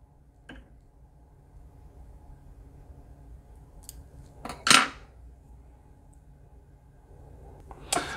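Scissors snip through strands of gold crystal flash while a craw-pattern bucktail jig is tied, giving two or three short, sharp clicks over quiet room hum with long still gaps between them.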